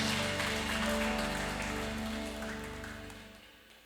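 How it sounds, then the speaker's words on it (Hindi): A church congregation at a Sunday Hindi service claps together in praise to God, a dense, loud burst of applause with music behind it that gradually fades toward the end. "क्यों ना परमेश्वर के लिए एक जोरदार ताली बजा दे प्यारे लोग"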